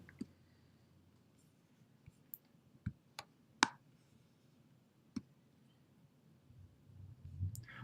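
A computer mouse clicks several times in a quiet room, sharp isolated clicks spaced irregularly over a soft, low background hum, with one or two louder presses.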